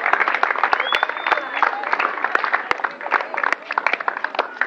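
Audience applause at a Christian youth gathering, lively clapping with sharp individual claps standing out and some voices mixed in, continuing steadily throughout.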